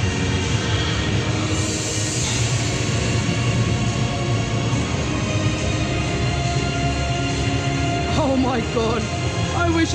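Roller coaster trains at Blackpool Pleasure Beach roar past in a loud, continuous rumble with a rattling track clatter, and voices blend into the dense noise.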